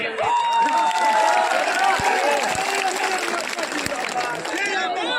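A large crowd at a political rally in Jharkhand in 45-degree heat, a dense roar of many voices with cheering and scattered claps, loud and continuous.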